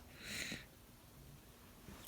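A soft, close sniffle of air drawn through the nose, followed by quiet breathing and a fainter sniff at the end.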